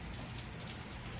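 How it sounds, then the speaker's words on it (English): Rain falls steadily outdoors along a rail trail during a bike-packing trip, a dense, even patter with no pauses and no voices. "and it's raining anyways."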